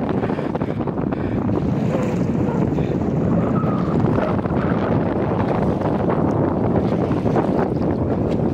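Wind pushes a sailboat across the Padma river, a steady, loud rush of wind buffeting the microphone over the continuous wash of water against the hull, with no pauses throughout.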